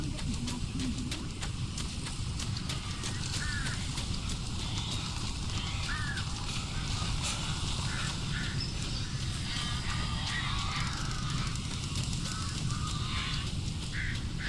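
Birds in the video game Alan Wake Remastered let out repeated harsh honking, squawking calls over a constant ambient rumble, with sharp clicks scattered through the scene.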